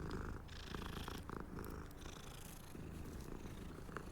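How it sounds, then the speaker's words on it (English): A cat in the video game Hogwarts Legacy purrs steadily as it is petted, a soft, continuous rumbling purr heard alone throughout. "Is this literally just petting the cat?"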